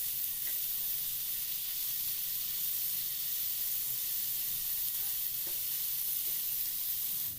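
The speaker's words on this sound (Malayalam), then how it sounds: "ഇനി ഇതിലേക്ക് തക്കാളി കൂടി ചേർത്ത് വഴറ്റാം." Chopped tomatoes sautéing in masala for Kerala-style prawn biryani give a soft, steady sizzle and hiss in a pan, quiet and continuous with faint stirring and no talk.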